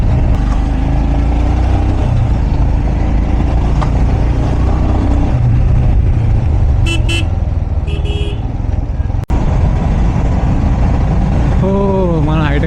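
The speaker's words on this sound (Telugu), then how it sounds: "దీని నుంచి ఇక ట్రాఫిక్ చూడండి, వెనకాల ముంగట మొత్తం ట్రాఫికే ఉంది" Heavy night traffic on a Hi-Tech City road in Hyderabad, with constant engine rumble from cars and motorbikes, a few short horn toots in the middle, and a voice heard briefly near the end.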